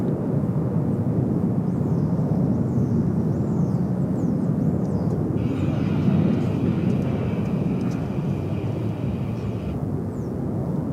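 A jet airliner at DFW Airport roars loudly and steadily in a broad, continuous rush, with a thin whine joining partway through, while faint bird chirps sit in the background.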